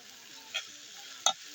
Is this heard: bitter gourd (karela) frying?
yes